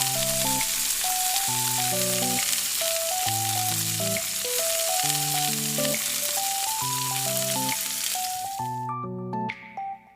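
Chicken pieces sizzle in a pan with onion and ginger-garlic paste, a steady hiss of frying running throughout beneath a louder melodic music track, then fading near the end.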